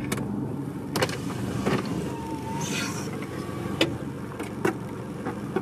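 A car with an automatic transmission drives at a low, steady hum on a farm, with a few brief clicks and knocks over the engine and road noise.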